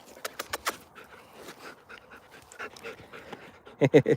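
A golden retriever pants in quick, close breathy bursts, with a few sharp louder puffs near the start and a strong burst at the end, outdoors on a hot day.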